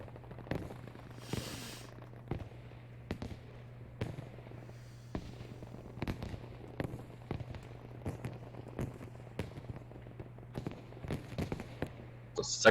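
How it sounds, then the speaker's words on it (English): Red sector artillery shells pound a battlefield in Battlefield V, a string of sharp, fairly evenly spaced explosive cracks and thuds over a low steady hum, moderately loud and repeating throughout with no voices. "and it's red sector artillery. It's actually doing some heavy damage."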